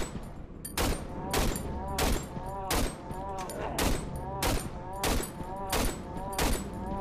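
Rapid bursts of gunfire from the MC gun in the horror game Cry of Fear, roughly ten loud, evenly spaced shots over several seconds, close and alone with no talking.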